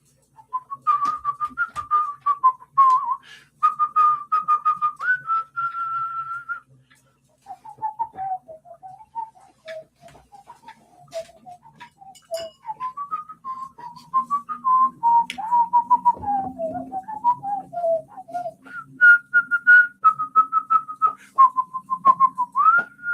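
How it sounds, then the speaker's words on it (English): A person whistles a melodic tune, the Snork City theme, in clear, close phrases with short pauses, with faint low background noise underneath. "There, you got me whistling Snork City"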